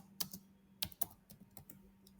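Someone types on a computer keyboard while entering a git commit message, giving close, quiet key clicks in an uneven burst of about eight or nine strokes, with no voice over them.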